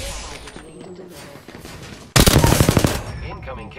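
Automatic weapon fire in the shooter game Apex Legends: a loud, close burst of rapid shots erupts midway after quieter game ambience, with sharp repeated cracks that then trail off.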